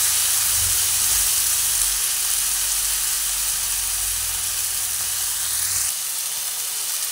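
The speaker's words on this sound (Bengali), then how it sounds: "এক এক করে চিকেনটা ঢেলে দিলাম।" Chicken tipped into a hot kadai of onions erupts in a loud, steady sizzle and steamy hiss, close and continuous, with a low rumble that drops away near the end while the frying carries on.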